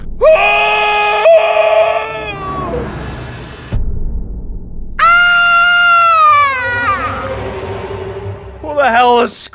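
Loud, shrill screams rise and fall in long wavering cries with a short silent gap, then a final burst of harsh screeching at the end.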